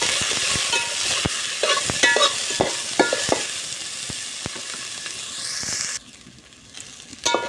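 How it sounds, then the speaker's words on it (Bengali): Steady sizzling of onion, garlic and ginger frying in oil for chicken curry, with repeated scrapes of a spatula stirring the pan; the sizzle drops away near the end. "ভালো করে কিন্তু একটু ভাজা ভাজা করে দেবো।"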